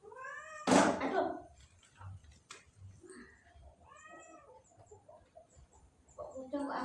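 Cat meows a few times, short harmonic cries spaced apart and fairly close, with a loud rustle near the start and quiet voices in the background.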